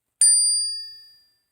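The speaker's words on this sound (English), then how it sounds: "So I got this little chime." A small metal chime rung once to clear crystals, a bright clear ring that starts sharply and decays smoothly over about a second, alone in a quiet room.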